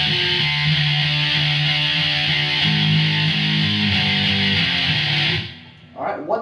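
Electric guitar plays the verse riff of a song, a steady sustained chugging line with low repeating notes that runs unbroken for over five seconds, then stops and a brief voice follows.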